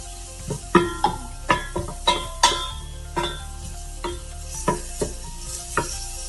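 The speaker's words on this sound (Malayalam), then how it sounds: "തീ കൂട്ടിക്കൊടുത്ത് ഓണിയൻസ് ഫ്രൈ ചെയ്യാം" Onions frying in ghee over raised heat, a steady close sizzle broken by about a dozen sharp, regular clinks of a spoon stirring against the pan.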